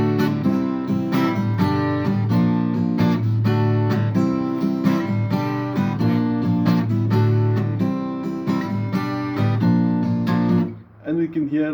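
Guitar strumming the chords of a song in a steady pattern full of offbeat accents, close and loud, with no voices, ending in a brief pause near the end.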